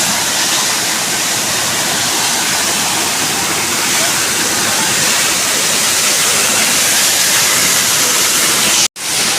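A loud, unbroken roar of falling water from Wakaba Falls in Meghalaya fills the clip, a close and powerful wash of noise that drops out sharply for an instant near the end.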